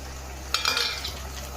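Fried onions and green chillies are stirred in a pan with a spatula, making one quick scraping stroke with a light sizzle. No one speaks.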